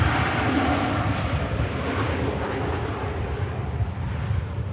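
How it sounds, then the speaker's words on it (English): A Ryanair airliner's engines at Manchester Airport, a loud, broad, continuous roar that holds steady throughout with no voices. "The audio from this Ryanair really cutting through the air."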